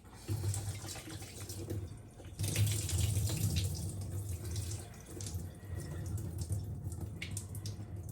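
Water pours steadily from a running faucet into a kitchen sink, a continuous splashing rush lasting several seconds with a brief lull partway, close and fairly loud with no talking.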